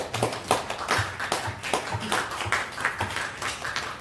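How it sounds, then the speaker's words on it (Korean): A church congregation claps for the young people in steady rhythm, sharp close claps landing about twice a second over a low background murmur. "그 아이들한테 박수를 좀 보내줍니다."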